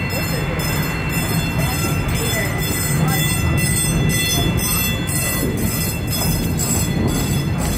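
A railroad train at the Busch Gardens theme park rolls along steadily with a rhythmic clack of wheels over rail joints and a metallic rumble, heard close and continuous.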